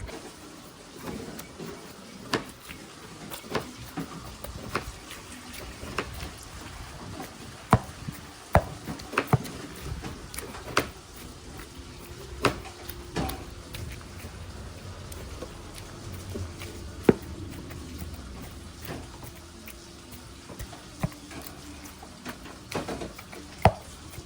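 Ingredients for bergedil are chopped by hand, with sharp, irregular knife strikes sounding at close range. The chops are spaced over a quiet kitchen background with no talking.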